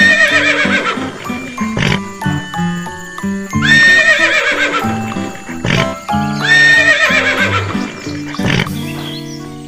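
Several loud horse neighs and whinnies from a toy horse on a toy swing truck, shrill and wavering, repeating in bursts with brief gaps between them.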